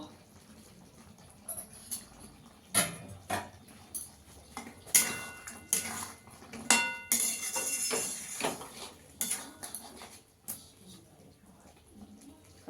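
Pot lid lifted and malai chicken stirred, with metallic clinks and taps of lid and spoon against the pot at irregular intervals, moderately quiet, with someone talking softly at times.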